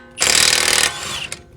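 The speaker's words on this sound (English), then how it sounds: "it's easier to use an impact to remove that spindle nut" An impact wrench rattles hard for about two thirds of a second while loosening a spindle nut on a 2005 Acura TSX during front wheel bearing work, then spins down to a quieter whir with a short final burst.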